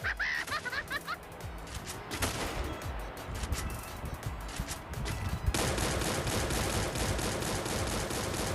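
Rapid gunfire from the Free Fire battle royale mobile game, dense bursts of automatic shots that grow louder and more continuous partway through, mixed with game effects and a little background voice.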